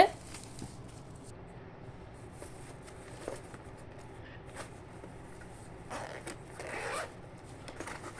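The zipper on a compartment of a new school bag is opened, a soft close rasp in short pulls with light handling noise, quiet throughout.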